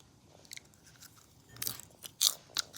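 Popcorn is crunched and chewed close to the mouth in several sharp, uneven bites, with quieter chewing between them and louder crunches toward the end, and no talk.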